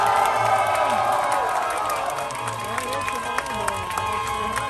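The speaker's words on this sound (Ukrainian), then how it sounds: "Ваші аплодисменти Лексусу!" Crowd at a street drift event applauding and cheering for a Lexus, a steady wash of clapping and shouts with whistles, mid-distance, sustained throughout.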